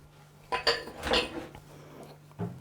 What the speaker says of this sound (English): Mix it around a bit.